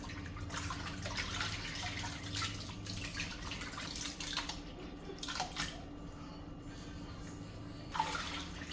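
Water runs steadily from a tap into a sink while raw chitterlings are rinsed and handled, giving a continuous close splashing wash with small drips and sloshes; a voice is faintly present underneath.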